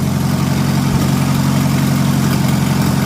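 A Farmall tractor engine idles with its carburetor out of adjustment, a steady, loud, low rumble that runs without a break.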